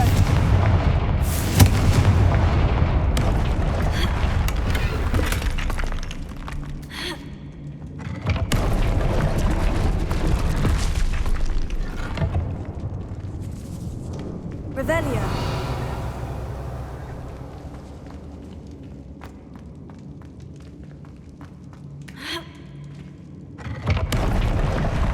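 Bombarda and Confringo spell blasts in Hogwarts Legacy combat, a string of loud booming explosions and crackling bursts that roll on over a long stretch, some hits sharp and others lingering as rumbling decays, with brief shouts among them.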